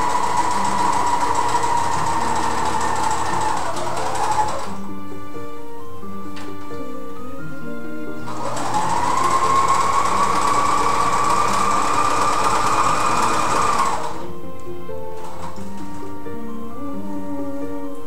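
Home sewing machine stitching a cocktail dress, two long steady runs of loud whirring with a rising motor pitch, separated by a short pause and ending in quiet.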